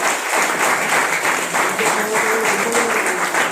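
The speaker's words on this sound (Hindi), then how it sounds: "मैं चाहूंगा इनके लिए जोरदार ताली हो जाए।" Steady, enthusiastic applause from a crowd, continuous clapping throughout with no pauses.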